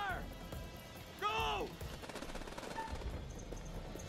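Rapid, faint gunfire in the video game House of Ashes rattles in quick bursts. Voices and other sounds sit in the foreground over it.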